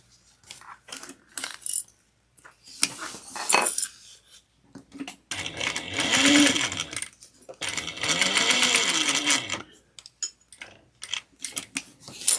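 A sewing machine stitches around a tote bag in stop-start bursts, two sustained whirring runs of stitching between scattered clicks and small clinks from handling and pivoting, close and moderately loud.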